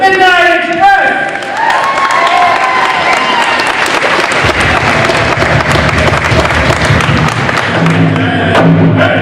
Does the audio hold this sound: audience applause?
yes